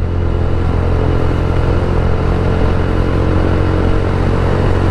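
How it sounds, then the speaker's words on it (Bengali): A motorcycle speeds along the Dhaka to Mawa Expressway, its engine and wind roaring loud and steady for the whole stretch, with no talking. "এত জোরে আমি কখনো বাইক চালাই না, খুবই রেয়ার"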